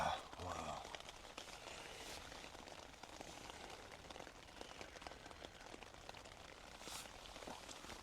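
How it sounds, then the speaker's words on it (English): Heavy, persistent rain drums steadily on a Durston tent, a dense unbroken hiss of drops on taut fabric heard from inside, with no speech. "This is definitely the most heaviest rain I've ever been in the Durston."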